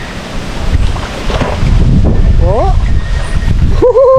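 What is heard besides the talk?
wind blowing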